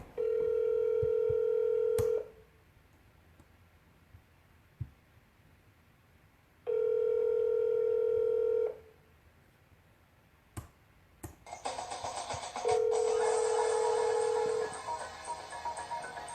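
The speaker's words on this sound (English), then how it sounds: "I have to accept to make the phone call" Telephone call tones while placing a call through the CallRail calling service: three long, steady ringback tones separated by quiet pauses, a few clicks, then a louder noisy burst with another tone near the end.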